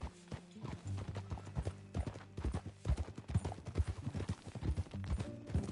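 Horse hooves clip-clop in an uneven trotting rhythm in the western video game Red Dead Redemption, close and fairly quiet, with a brief whinny-like sound and no talk over them.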